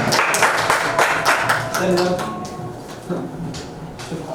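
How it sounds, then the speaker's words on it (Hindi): An audience at a poetry recital claps loudly to welcome the poet Rashid. Dense applause fills the first half, then thins into scattered claps under voices. "जोरदार तालियों में इस्तकबाल करें रशीद का"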